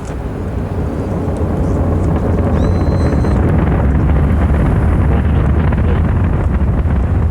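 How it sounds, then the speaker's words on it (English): A dense, continuous roar of Space Shuttle Discovery's rocket engines at liftoff rumbles loudly and without a break, heavy in the low end, with wind-like buffeting and no speech. "Liftoff of the Space Shuttle Discovery"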